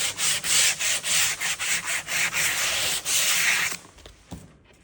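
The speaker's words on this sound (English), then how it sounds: "Now you want to get your sandpaper and you want to just go to the edge, give it a sand." Sandpaper rubbed by hand along the taped edge of a curved worktop, a close, steady run of rhythmic scratchy strokes that stops near the end, leaving a couple of faint scuffs.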